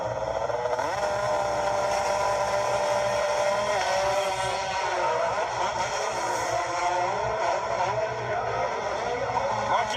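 125cc dirt bikes race at the Red Bull Straight Rhythm event, their high engine whine rising and falling continuously under a commentator's voice, moderately loud and steady over the whole stretch.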